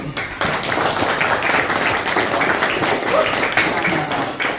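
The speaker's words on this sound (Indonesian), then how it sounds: "Biar meriah, tepuk tangan dulu." Dense, steady clapping from a crowd of fourth-grade schoolchildren, sustained for several seconds at an even, lively intensity.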